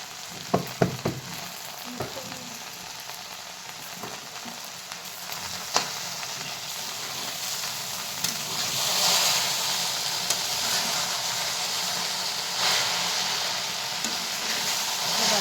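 Sliced okra (bhindi) fries in a pan with village green chili chutney and crushed peanuts, a steady sizzle with occasional sharp clicks and scrapes of stirring, close and moderately quiet with no speech.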